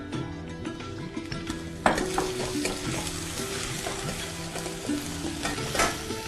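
Mustard seeds and sesame seeds sizzle and crackle in two spoons of hot oil as a tempering for potato masala, with a steady frying hiss, a spoon knocking against the pan, and no speech.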